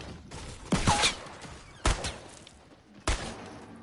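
Gunfire in Fortnite: three separate loud bursts of shots spaced about a second apart, with quieter game ambience between them.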